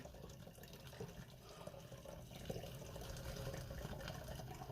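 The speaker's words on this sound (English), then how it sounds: "I'm going to pour that tea right down in this jug." Steady pouring of tea into a jug, a continuous watery splash that stays fairly even and close throughout.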